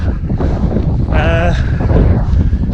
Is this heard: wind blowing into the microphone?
yes